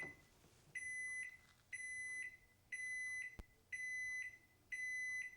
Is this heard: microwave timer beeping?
yes